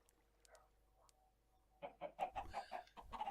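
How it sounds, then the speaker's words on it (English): Chickens cluck in the Minecraft modpack Agrarian Skies, a quiet burst of rapid clucks after a few faint earlier chirps, close and fairly soft. "Do I need to kill the chickens with this?"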